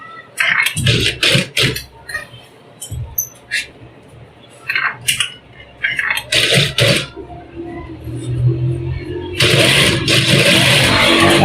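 A sewing machine stitches lace onto a fabric edge, whirring in repeated short runs with pauses between, then a longer steady stretch of stitching at the end.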